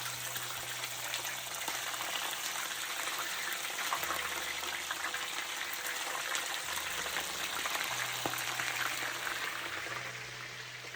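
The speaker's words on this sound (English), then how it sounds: "I'm just going to fry the fish." Fish fries in hot oil in a pot with a steady, close sizzle and bubbling that stays even throughout, with a low hum underneath.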